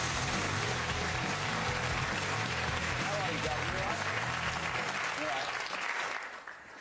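Studio audience applause on a talk show, a steady, full round of clapping that runs for about six seconds before fading out, with some voices mixed in beneath.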